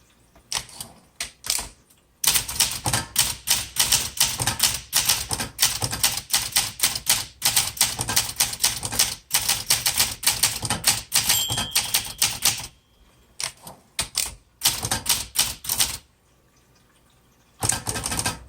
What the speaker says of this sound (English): Let me just type that word again, because I hit 2 at once.